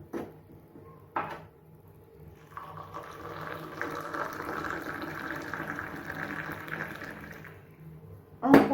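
Moroccan mint tea is poured in a steady stream for several seconds to mix sugar in a teapot, framed by a couple of brief knocks at the start and a sharp clink at the end.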